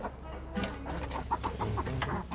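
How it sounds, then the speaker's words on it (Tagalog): Three pet chickens on a rural provincial homestead cluck in a steady series of short, soft calls over a constant low background hum, with no voices. "yung tatlo kong alaga manok"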